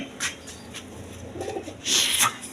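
Indian Lotan pigeons coo in a few soft bursts near the mic, a louder sustained call toward the end against a quiet background.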